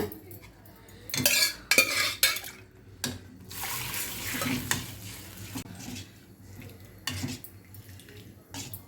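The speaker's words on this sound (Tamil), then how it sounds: "எடுத்து வச்சுருக்கோம் இந்த தண்ணி, அதையும் இதில் நல்லா கலந்து விட்டு இதில் ஊற்றிக்கலாங்க" Water splashes into a hot pan of tomato chutney with a brief sizzle, followed by scraping and stirring against the metal, with clinks of a utensil.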